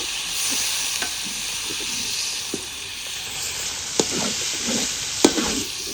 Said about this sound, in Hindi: अब मैं इसमें चिकन को अच्छा से ब्राउन करूँगी।